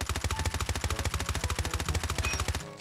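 Sustained automatic P90 fire from a first-person shooter video game at mid range, a rapid, steady stream of loud shots in a continuous burst lasting nearly three seconds, with no talking.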